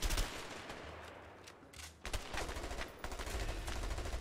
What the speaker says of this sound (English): I'm taking heavy fire.